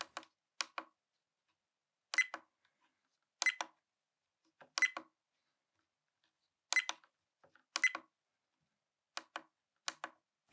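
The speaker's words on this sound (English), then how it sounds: "Beep sound." Trail camera giving short sharp electronic beeps, mostly in quick pairs spaced a second or two apart, crisp and close against near silence.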